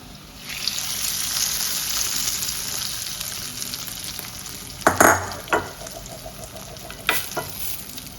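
A hot tempering sizzles loudly as it is stirred into tomato thokku pickle, a steady frying hiss broken by a few sharp clinks and scrapes of the spoon against the pan.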